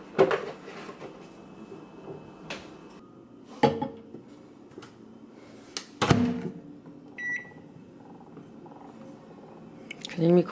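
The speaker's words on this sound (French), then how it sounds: "Il y a le micro-ondes qui bug." A microwave oven runs while heating a baby's bottle in a home kitchen at morning, a low steady hum under intermittent clatter and a few sharp knocks, with a voice speaking in the room.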